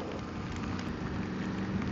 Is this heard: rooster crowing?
no